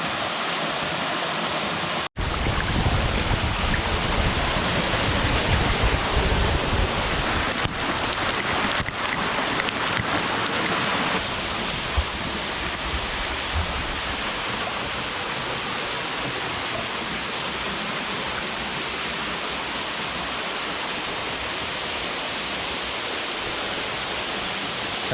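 Goa Rang Reng waterfall in Gianyar, Bali pours as a loud, dense, continuous rush of falling water heard close up, with a brief bump and dropout near the start.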